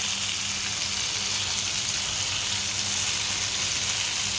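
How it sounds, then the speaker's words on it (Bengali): Marinated rupchanda pomfret fish frying in a couple of spoons of oil after being flipped, giving a steady, even sizzle that stays constant throughout. "প্রায় ভাজা হয়ে গিয়েছে, আমি মাছগুলোকে উল্টিয়ে দিয়েছি।"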